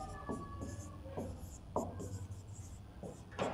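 A pen writes notes on paper in short scratchy strokes, faint and close, set against a low hum of the room.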